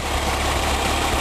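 A Lada Niva 4x4 engine idles steadily, a close, even low rumble with a constant drone and no voices.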